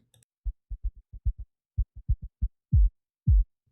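Deep, punchy synthesized electronic kick drum hits shaped with a pitch envelope play in an uneven sequence, short thuds building to two longer, booming kicks near the end.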